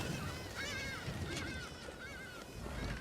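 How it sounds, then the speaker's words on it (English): Geese honk repeatedly at a distance over dense outdoor ambience in Assassin's Creed Shadows, with several wavering calls spread across a steady wash of background noise. "all those birds."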